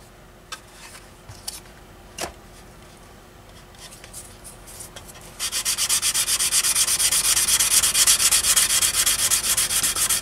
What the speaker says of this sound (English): I'm gonna do some more buffing in here